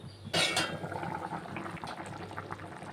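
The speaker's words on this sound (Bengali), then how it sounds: "তরকারির ঝোলটা ফুটে গেছে" Curry broth with potatoes and aubergine bubbles in a covered pan, a busy, steady boiling burble after a brief clatter, close and fairly soft, with no voices.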